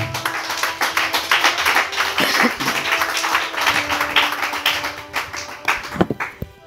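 A church congregation claps in a steady rhythm, with crisp, even beats repeating throughout over a faint sustained tone, a few stronger claps near the end.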